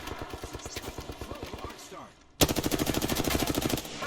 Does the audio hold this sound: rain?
no